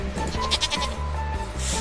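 A goat bleats in Stardew Valley, a repeated wavering bleat over steady in-game background music with a soft chime.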